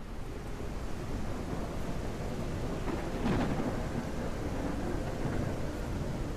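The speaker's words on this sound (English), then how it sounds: "There's a thunderstorm." Thunderstorm in the game Echoes of Extinction: steady heavy rain roaring loudly throughout, with a rolling thunder rumble swelling near the middle, no voices.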